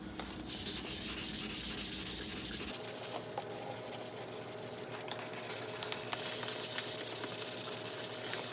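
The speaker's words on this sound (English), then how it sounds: "I'm going to use some 600 dry sandpaper." Dry sanding with 600 grit sandpaper scuffs the glossy finish off a painted surface before spray painting; close, rhythmic back-and-forth rasping strokes give way to steady continuous rubbing, with no talking.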